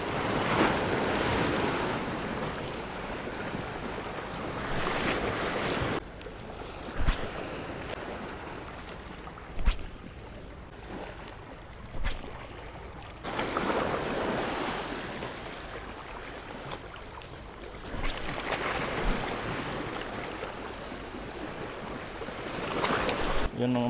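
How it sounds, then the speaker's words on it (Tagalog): Ocean waves rush and surge continuously around a small fishing boat, with gusts of wind buffeting the microphone throughout. "Lalaki ng alon."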